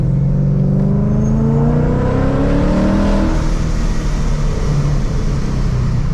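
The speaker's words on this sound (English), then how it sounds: "This exhaust just does not have that obnoxious tone at all." A 700-horsepower supercharged Mustang revs loudly and steadily, its exhaust rising in pitch with a deep, smooth roar that stays full and close throughout.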